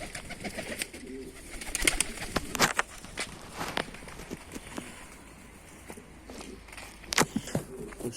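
Pigeons coo softly nearby while wings flap and feet shuffle in scattered bursts, with no talking.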